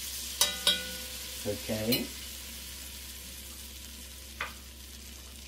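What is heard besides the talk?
onion and celery searing in a pan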